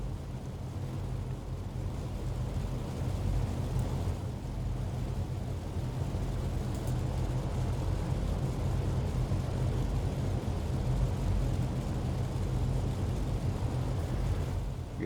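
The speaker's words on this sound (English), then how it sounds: "is one of the last examples of the B-24 which is still flying" Engines of a B-24 bomber on the runway at Kennedy International Airport, a steady dense droning roar that stays loud and constant throughout with no talk.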